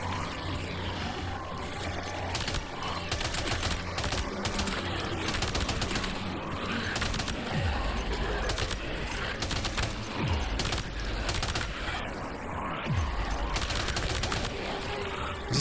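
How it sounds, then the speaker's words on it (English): Sustained machine gun fire in Death Stranding 2, dense rapid bursts rattling almost nonstop at close range, with mechanical clatter and low thuds mixed in. "Let's get our machine gun out."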